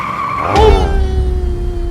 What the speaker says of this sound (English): He immediately hit the brakes.